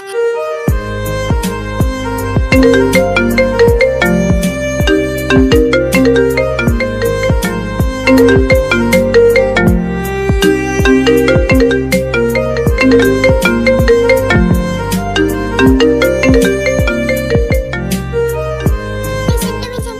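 A phone ringtone plays a loud, repeating melodic tune that rings on without pause for the full twenty seconds while the call goes unanswered.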